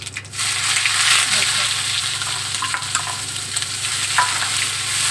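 Onion paste fries in hot oil with crackling mustard seeds, making a loud, continuous sizzle with scattered pops and stirring scrapes, and a steady low hum underneath.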